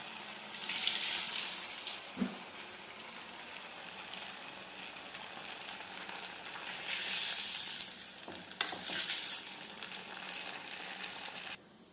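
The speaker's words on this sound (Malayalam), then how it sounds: "ബ്രെഡ് ക്രംസിലൊന്ന് കോട്ട് ചെയ്ത ശേഷം നമുക്ക് ചൂടായ എണ്ണയിലേക്ക് ഇട്ടിട്ട് ഫ്രൈ ചെയ്തെടുക്കാവുന്നതാണ്" Breadcrumb-coated aloo tikki patties fry in hot oil with a faint, steady sizzle that swells into louder hissing bursts, with one short knock along the way and no talking.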